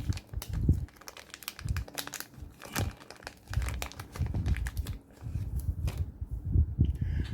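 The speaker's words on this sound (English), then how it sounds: "These plastic bags are really sometimes a pain." A plastic bag crinkles and rustles up close as a gold-colored fountain pen is unwrapped from it, in continuous irregular bursts of crackling.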